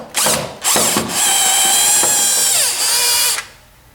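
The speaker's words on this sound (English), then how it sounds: "we'll use a Phillips head screwdriver to remove the 2 screws that secure the metal frame" Power screwdriver whining in several bursts as it backs out screws from a metal frame attached to a plastic backrest frame of a massage chair mechanism; loud, close, steady high-pitched motor tone with brief pauses, no talk.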